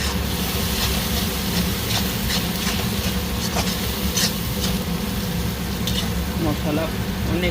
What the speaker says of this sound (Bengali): মশলা অনেক সুন্দর ভাজা হয়ে গেছে।